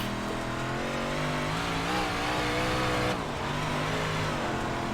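Big Block Modified race car at Cedar Lake Speedway in iRacing, its engine droning loudly and steadily with shifting pitch as it's driven hard around the track, no talk.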